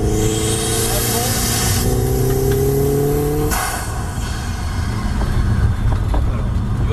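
A car engine pulls hard at full throttle on a racetrack, its loud, steady note climbing in pitch for a few seconds before dropping and settling into a rougher, lower roar.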